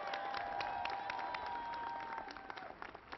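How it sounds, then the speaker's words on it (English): Sustained applause from a large audience at a Pentagon event, a dense wash of many hands clapping that holds steady for a few seconds and then starts to thin out. "Let's give Becky a round of applause."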